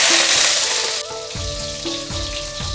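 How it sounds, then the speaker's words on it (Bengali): Goat fat drops into hot oil in a wok and sizzles loudly at first, then settles into a softer, steady crackle beneath faint tonal background music. "তেলটা গরম হয়েছে এবারে খাসির তেলগুলো দিয়ে দিলাম"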